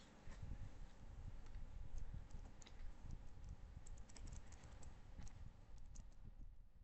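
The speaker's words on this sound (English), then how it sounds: "we have to type" Keys tapped on a computer keyboard while code is entered, a steady run of soft close clicks throughout under a low background hum, with no talking.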